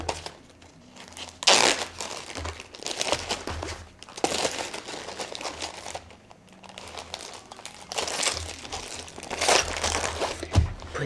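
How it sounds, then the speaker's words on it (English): A plastic bag crinkles close by in repeated short bursts as toiletries such as foundation are packed into it, with quiet rustling between the louder crunches. "So I'm going to put them in a plastic bag."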